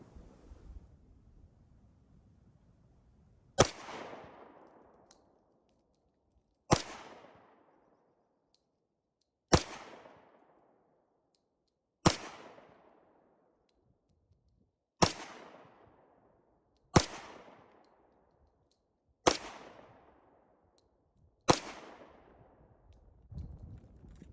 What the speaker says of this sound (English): Let's put 8 rounds of 30 Luger on it.